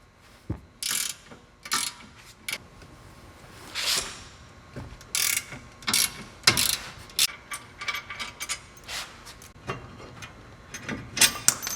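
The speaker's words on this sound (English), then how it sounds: "we're going to remove these 2 bolts that attach our brake caliper bracket to our steering knuckle" A hand ratchet clicks in short bursts with pauses while loosening the brake caliper bracket bolts from a car's steering knuckle during a front brake pad and rotor job; close metallic ratcheting, no talk.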